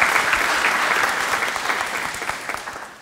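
Audience at a Christmas carol service applauding warmly, a dense, even round of clapping that holds steady and tapers slightly toward the end, with no talk over it.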